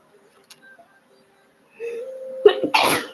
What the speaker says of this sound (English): Ooh, I got sneeze.